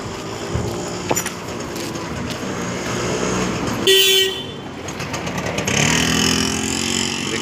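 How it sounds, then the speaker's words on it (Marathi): Auto rickshaws rumble along a quiet early-morning road, and a single short horn toot sounds partway through over the steady engine and road noise. "रिक्षा पण चालू झालेले आहेत."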